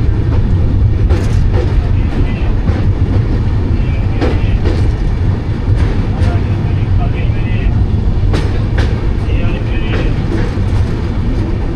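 The Dhauli Express rolls into Balasore station with a loud, continuous rumble and rattling carriage clatter, sharp clanks punctuating the heavy low roar; a voice speaks over the din.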